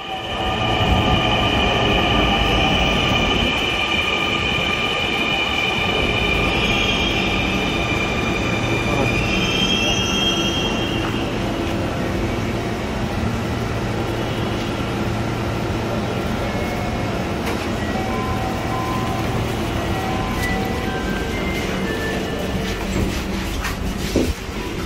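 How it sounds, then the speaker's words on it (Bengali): A Dhaka Metro Rail train ride from inside the carriage: a steady, loud rolling rumble with squealing wheels and high whines that fade after the opening seconds, continuing evenly throughout. "এই ট্রেন দিয়ে আমাদের যাত্রা শুরু করব"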